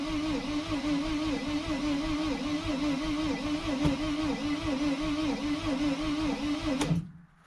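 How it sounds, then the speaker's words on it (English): A 2006 T1N Sprinter diesel's starter cranks the engine steadily for about seven seconds with a rhythmic churning pulse, loud and close, then cuts off abruptly without the engine catching. "At least we got a starter that's actually spinning."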